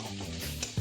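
Fish stir-fried with masala paste in a pan after a splash of water, giving a brief close sizzle with a stirring scrape.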